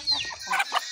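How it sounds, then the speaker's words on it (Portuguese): Chickens and chicks on a farm clucking and peeping in short, close bursts, a high chirp followed by a few louder clucks, with no talking. "Olha os pintinhos."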